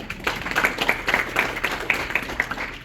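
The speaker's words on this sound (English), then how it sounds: "if you give yourself a round of applause because you're here as well" Sustained applause from a crowd, many hands clapping in an even, lively patter at moderate loudness with no one speaking over it.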